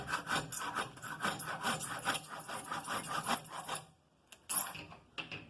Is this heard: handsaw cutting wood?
yes